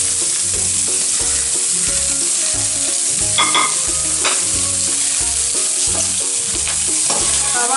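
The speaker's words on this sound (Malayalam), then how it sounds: "എണ്ണയുടെ ചൂടായിട്ടുണ്ട്. നമുക്ക് അതിൽ തന്നെ സവാള വെക്കാം. അതിൻ്റെ കൂടെ തന്നെ പച്ചമുളകും ഇഞ്ചിയും എല്ലാം ഇട്ട് കൊടുക്കാം." Onion, green chilli and ginger fry in hot oil in a steel pan, a continuous bright sizzle with rhythmic scraping stirs and occasional sharp pops, close and loud, with no voices.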